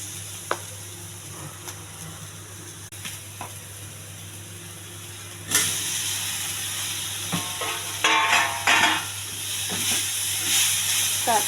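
Bitter gourd drops into hot oil already holding cumin, onion, green chilli and ginger-garlic paste, and a steady loud sizzle rises abruptly midway, broken by stirring scrapes over a faint hum.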